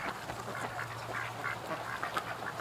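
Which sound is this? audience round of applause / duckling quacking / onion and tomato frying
duckling quacking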